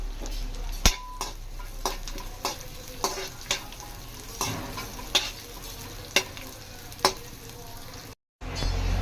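Green chillies, finely sliced, frying in a pan for a dhaba-style chicken dish: a steady close sizzle with repeated sharp scrapes and clinks of a spoon stirring against the pan, no talking.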